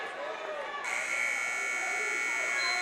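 A period-end buzzer at a high school wrestling match blares on suddenly and holds as a loud, steady electronic tone, with gym crowd noise around it.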